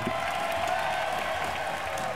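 Studio audience applause greets judge Deddy Corbuzier at the IMB Season 3 talent show, a dense, even wash of clapping from a large crowd that lasts the whole short stretch.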